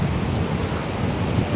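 Big waves crash and roar in steady, loud surf during Typhoon Kristine, with wind rushing across the microphone throughout.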